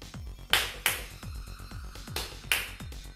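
Sharp hand claps ring out near and fairly loud to trigger a DIY Arduino clap switch, several separate claps spaced irregularly over a few seconds with faint room noise between them.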